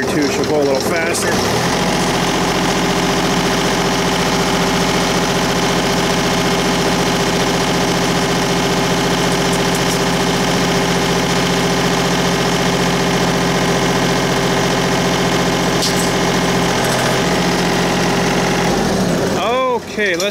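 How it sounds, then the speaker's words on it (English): Tractor engine revved up to a higher steady speed, a loud droning hum with strong harmonics that holds for most of the stretch, then winds down near the end; speech is likely present at times. "I'll rev her up a bit here too, she'll go a little faster."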